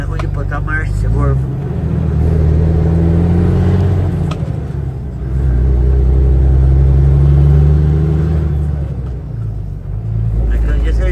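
A car engine rumbling and revving under a driver's loud talking, rising and falling as the driver struggles with a stiff gearshift during a drive.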